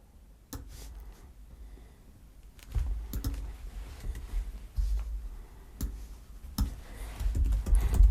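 Keys tapped on a computer keyboard in a few sparse, scattered clicks over a low rumbling background, quiet and close, with gaps of several seconds between strokes.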